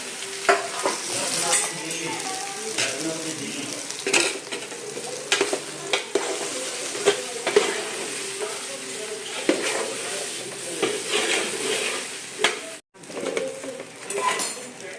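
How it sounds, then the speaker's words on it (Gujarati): Dhokla is stirred in a pan after asafoetida is added, giving continuous sizzling with frequent scraping and tapping of a utensil against metal and faint bird calls in the background. "હવે હિંગ અને ઢોકળા નાખીને ઢોકળા હલાવી લેવાના."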